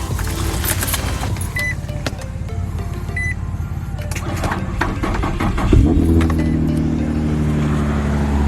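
A Nissan G35/350Z engine cranks on a boosted dead battery and then catches, settling into a steady idle hum near the end, with some clicks and rattles before it fires.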